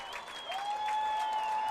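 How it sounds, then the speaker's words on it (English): Football crowd at a high school game (Pennsbury Falcons at Central Bucks) applauding an injured player as he gets up, a steady distant wash of clapping with a whistle-like tone running through it. "And gets a great round of applause here as he runs to the near sideline."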